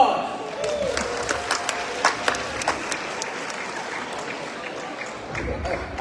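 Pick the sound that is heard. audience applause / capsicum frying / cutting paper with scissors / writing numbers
audience applause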